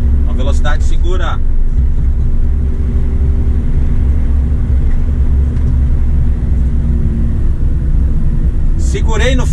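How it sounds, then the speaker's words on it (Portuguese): Inside a truck descending a mountain road with the engine brake engaged at its third stage, a loud, steady low engine rumble holds throughout while someone speaks briefly at the start and end. "Vou acionar freio motor, terceiro estágio, para estabilizar a velocidade."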